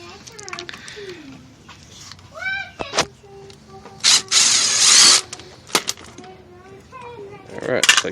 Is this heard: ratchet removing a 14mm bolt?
yes